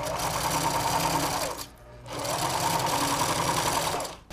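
A sewing machine runs in two steady bursts, stitching fabric for a patchwork carnival princess crown, with a brief pause between them and a close, even mechanical whir.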